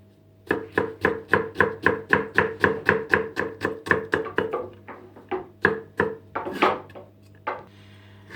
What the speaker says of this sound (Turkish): soğanlarımı doğramaya başlıyorum şimdi